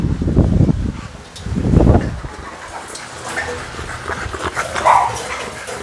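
Dogs at a Bully breed kennel in Long An barking in loud close bursts, followed by quieter yips and whimpers against a rustling background.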